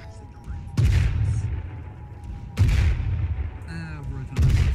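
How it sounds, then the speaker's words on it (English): Mortar fire in the military video game Arma 3, three heavy booming blasts spaced a couple of seconds apart, each with a long rumbling tail, with faint radio-style voices in the background between shots. "Mortar. What is that?"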